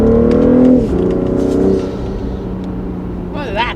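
An upgraded BMW X5 engine under hard acceleration, with a loud, close intake roar and rising engine tone that shifts and drops away after about a second, heard from inside the car with voices over it.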